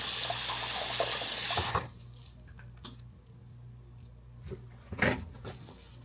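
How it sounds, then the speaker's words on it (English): A tap runs steadily into a sink while a case is rinsed, giving a close rushing stream that stops after about two seconds, followed by quiet handling sounds and a short splash. "Just rinsing my case."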